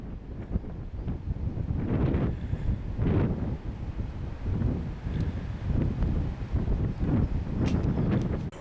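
Strong wind buffeting the microphone on a spring countryside walk in Wensleydale, Yorkshire Dales, near West Witton: gusty, rumbling roars rising and falling in repeated surges, loud and close, with no talk.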